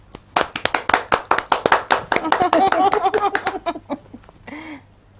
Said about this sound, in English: So please give an unforgettable applause to Margaret Osazua